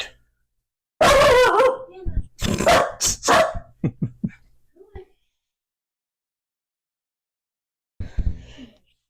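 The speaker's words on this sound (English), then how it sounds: "Good guard dog." A guard dog barking indoors in a home workshop, a loud close burst of several sharp barks and yips over about four seconds, then silence and a brief final bark.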